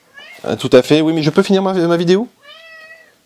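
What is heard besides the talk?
cat meowing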